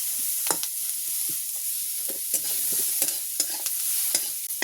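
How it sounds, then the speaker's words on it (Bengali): Garlic, cashews and black pepper fry in a pan, giving a steady close sizzle broken by scattered sharp scraping strokes of a spatula stirring, with no voices. "এবার এটাকে একটু ভাজা ভাজা করে নেবো"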